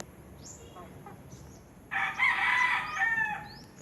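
A rooster crows loudly and nearby, preceded by softer clucks and chirps from chickens in a chicken coop in the background.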